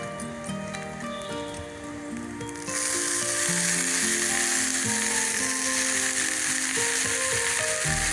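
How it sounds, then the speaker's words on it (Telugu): Stuffed okra fries in a pan with curry leaves added, and the sizzle jumps suddenly from a low crackle to a loud, dense, continuous hiss that carries on to the end with no voices. "ఇదిగోండి ఈ విధంగా బాగా వేయించుకోవాలి అలాగే కొంచెం కరివేపాకు వేసుకుందాం"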